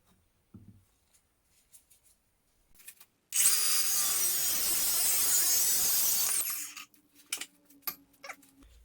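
A power saw cuts a steering retrofit part for a Z31 down to 75mm, giving one loud, steady burst of about three seconds, with quieter knocks and handling noises before and after.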